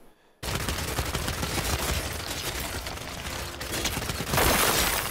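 Heavy continuous gunfire during a Gears 5 boss fight, dense overlapping shots kicking in abruptly after near silence and building to a louder burst near the end, close and without speech.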